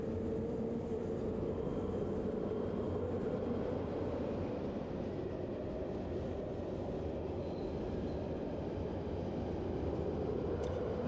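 A train in the video game Fallout London rolls along with a steady, continuous low rumble and rattle of carriages, even and unbroken throughout with no talk over it.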